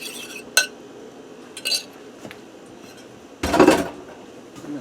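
Beef, spaghetti and sauce for a beef and broccoli lo mein are tossed in a pan, with a few sharp clinks of a utensil against metal and then a louder scraping, clattering stir near the end.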